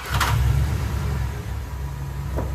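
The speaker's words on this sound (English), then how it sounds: "All we do is start her up and let her idle for 15 minutes." A 2002 Dodge 1500 van with a 5.2 L engine rumbles at a low, steady idle close by, a continuous deep drone with no voices.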